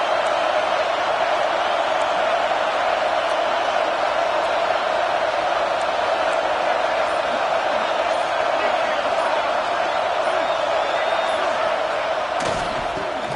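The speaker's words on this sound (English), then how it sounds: "Listen to the crowd energy here in the early going." A college football stadium crowd roars in a dense, steady wash of cheering throughout the early going of a Louisville at South Carolina game, loud and continuous.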